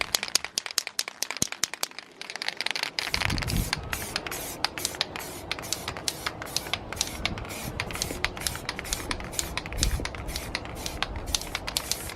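Spray can putting lacquer onto brake calipers, with repeated short hissing bursts after some opening clicks and rattles, close by and fairly quiet, with handling noises between sprays.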